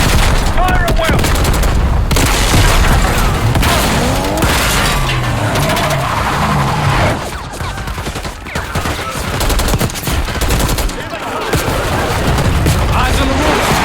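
Gunfire in the Call of Duty Black Ops 6 video game, loud, dense and continuous bursts of automatic fire and explosions with brief lulls, mixed with game voices shouting over the battle.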